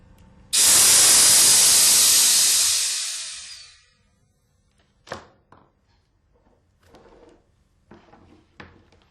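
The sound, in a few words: compressed air released from valve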